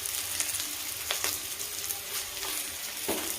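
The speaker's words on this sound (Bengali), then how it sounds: "পেঁয়াজটা একটু লাল লাল করে ভেজে নিই।" Onions frying with cashews and poppy seeds in a pan, a steady close sizzle with occasional sharp crackles and a few spatula strokes, no talking.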